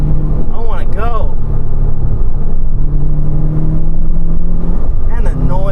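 Manual 2005 Subaru Legacy GT engine revving and pulling hard from inside the car, a loud, steady rumbling drone with rising tones, while people speak excitedly over it at the start and end.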